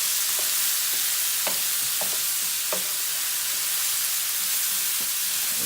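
A steady, close hiss of something frying in flavored oil in a pan over lowered heat for a frittata, with a few faint clicks of stirring scattered throughout.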